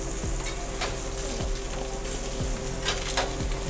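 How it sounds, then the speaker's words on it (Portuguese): Chicken fries in a pan with a steady crackling sizzle, broken by spatters and scraping stirs as the pieces are turned. "deixa eu só virar o frango aqui pra não queimar"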